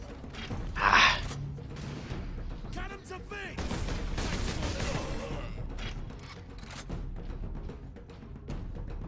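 Gunfire in the Warhammer 40K Space Marine video game: a loud burst of shots near the start, then mechanical clanks and a continuing mix of weapon fire and game noise.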